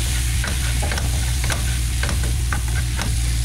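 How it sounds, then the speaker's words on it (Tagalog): Shrimp seasoned with cumin, pepper, salt and paprika sizzles loudly in a hot pan while a spoon stirs and scrapes against it in repeated knocks, close and constant. "Halo lang natin."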